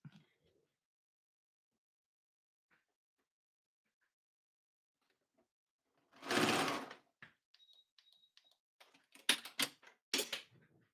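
Sewing machine stitching a fabric tissue pouch: a short, loud run of stitching, then a few brief, fainter bursts of stitching with clicks in between, in an otherwise quiet room.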